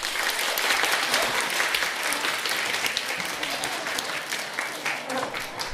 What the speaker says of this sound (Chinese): 感谢您各位的掌声鼓励